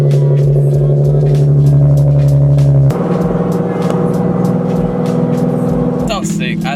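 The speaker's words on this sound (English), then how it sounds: "I love how the Subaru sound now." A Subaru WRX STI boxer engine and exhaust rev loudly at close range, holding a steady droning idle-to-rev tone before a sharper burst partway through, with a voice briefly over it near the end.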